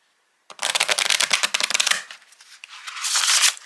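A tarot card deck is corner-shuffled close up: after a short silence, a quick riffling burst of rapid card flicks, a brief pause, then a second softer riffle and cascade.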